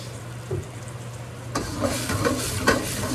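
A chicken thigh and artichoke pan sauce, thinned with stock and a little olive oil, is stirred in a pan: quiet at first, then from about halfway steady scraping and sizzling strokes continue close up, with no talk.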